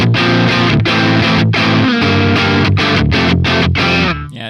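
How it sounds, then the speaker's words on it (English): An amp in the Neural DSP Archetype Nolly X plugin plays a crunchy, mildly distorted electric guitar tone. Loud chugging chords and rhythmic palm-muted stabs continue steadily, then ring out briefly at the end, with no talk over them. "Yeah, just fun little crunchy tones. That was actually just the amp."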